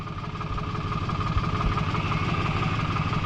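A tractor engine idles in a steady, close, low drone while pulling a pickup truck that slid off a rain-soaked road, with no speech.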